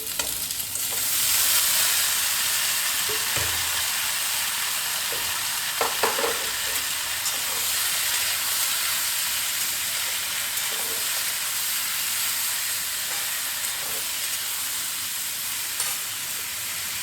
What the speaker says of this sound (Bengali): আমি কিন্তু একদম বেশি ভাজবো না, একদম হালকা রান্না করছি, তাই জন্যে সবজিগুলোও হালকা ভাজবো